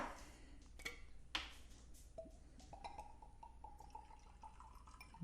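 Maker's Mark bourbon poured into a measuring jigger up to the one-ounce mark, heard as a faint, close trickle with small drips and light glass clinks in a quiet room.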